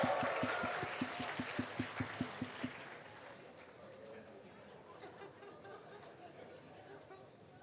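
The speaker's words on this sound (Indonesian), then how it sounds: "Panggil ke atas panggung. Tretan Muslim, tepuk tangan dulu" Audience applause at a book launch as comedian Tretan Muslim is called to the stage, a broad crowd roar with rhythmic clapping and cheering that fades into chatter.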